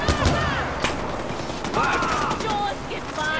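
Heavy gunfire erupts in a shooting video game, with rapid bursts and scattered shots over a dense, noisy battle mix, with faint voices and some tonal game sounds.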